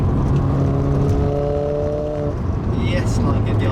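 A Renault Clio RS 220 Trophy hot hatch accelerating hard, the engine note climbing steadily in pitch before easing off, loud and close from inside the car, with voices speaking under the engine.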